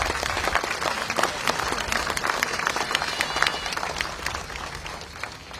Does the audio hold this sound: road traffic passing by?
no